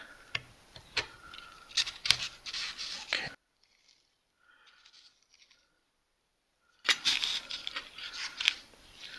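Scissors cut through fuse material while a self-lighting pull ring fuse is being made: crisp close snips in quick bursts, then a quiet pause, then another run of snipping.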